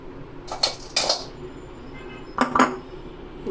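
Utensil scraping and clinking against a bowl while folding sponge cake batter made with lachha semai, in short clattering bursts separated by quieter pauses.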